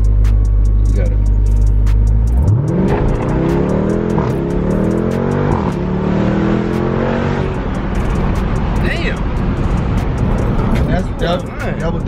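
A Jeep Trackhawk launches hard from a standstill after a steady low idle, its engine roaring up through loud, rising revs with a clear gear change and then pulling on strongly. Passengers talk over the noise.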